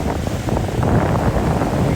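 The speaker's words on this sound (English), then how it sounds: "There's a big wave coming right here." Storm waves crash and surge against a jetty on a flooded barrier island, a loud, continuous roar of surf heavily mixed with gusting wind buffeting the microphone.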